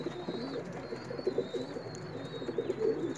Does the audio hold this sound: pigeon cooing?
yes